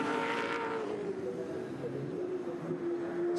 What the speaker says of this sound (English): This is the leading group of cars coming around to complete another lap.